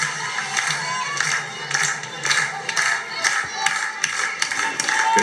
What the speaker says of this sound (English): Good crowd, and you can hear it